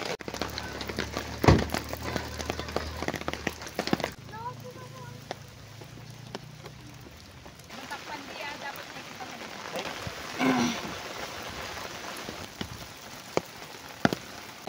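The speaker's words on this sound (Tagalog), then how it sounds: "Umuulan eh." Steady rain patters on surfaces at a lakeside campsite beside a sedan and a highball tent, a continuous soft hiss with occasional louder drops, while people talk intermittently nearby.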